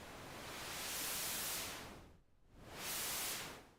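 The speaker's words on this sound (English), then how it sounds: "it does have a color control right here, which is kind of fun. So this will kind of emphasize or de-emphasize" Hissing noise from an Ableton Live synth noise oscillator swells and thins as its color control is swept up and down, brightening twice with a dip between, steady and alone without talk.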